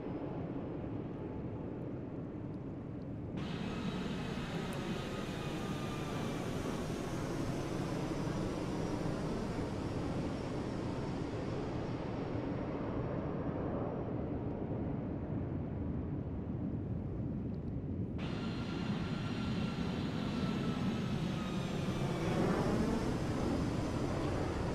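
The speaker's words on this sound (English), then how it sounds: "we got to have the engine noise up a little bit for this one" An airliner's engines drone steadily in Microsoft Flight Simulator 2024 during a landing at Atlanta's KATL airport, a broad, fairly quiet roar that twice swells into a brighter, hissing rush of air and thrust.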